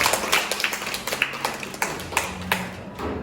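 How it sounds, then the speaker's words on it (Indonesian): A small group of participants in a Catholic teacher-training class claps briefly for a fellow presenter, a scattered run of sharp, close hand claps with uneven rhythm that quickly thins out. "Tepuk tangan untuk Lingling"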